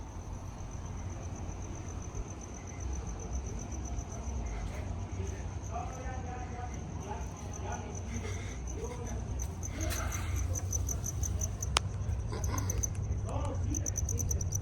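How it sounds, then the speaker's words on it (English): One or two crickets chirp just outside a bedroom window, a faint, steady, high-pitched pulsing trill over a low background rumble at night. "There's constantly like 1 or 2 crickets right outside my bedroom window"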